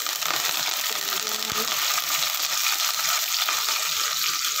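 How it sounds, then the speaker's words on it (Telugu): Onions fry in a pan with a continuous bright sizzle, steady and close throughout, with a faint clink partway through. "ఆనియన్స్ మంచిగా ఫ్రై చేసుకుందాం"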